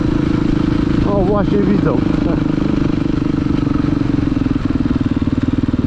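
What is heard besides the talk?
Honda Fireblade 900 cc motorcycle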